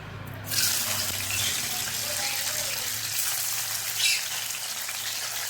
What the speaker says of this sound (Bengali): মাছ ছেড়ে দিচ্ছি।